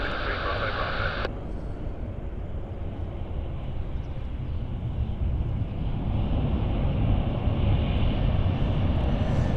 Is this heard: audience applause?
no